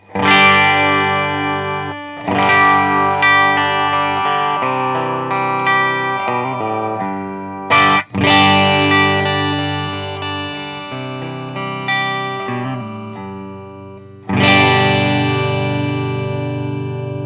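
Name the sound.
electric guitar through low-gain Marshall amp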